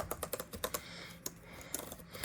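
Keys clack on a ThinkPad T14 Gen 1 laptop keyboard during a key test, a quick irregular run of crisp, close taps with short pauses between bursts, no talking.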